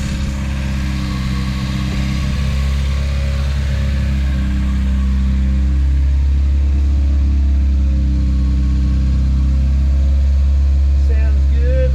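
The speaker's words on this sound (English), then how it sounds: "So it's idling a little bit high." A car engine idles a little high, a steady loud low rumble running continuously close by with no gaps, and a person talks over it throughout.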